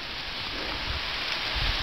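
Steady, dense rain falls in the Marpi Jungle, a loud, even hiss of drops on foliage with no voices, continuous throughout.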